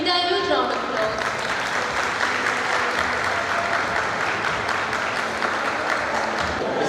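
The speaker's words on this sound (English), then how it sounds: "Please welcome him with a huge round of applause." Audience in a Nurses Day celebration hall in Mianwali gives a sustained, dense round of applause to welcome a speaker, steady and loud throughout with a hint of voices mixed in.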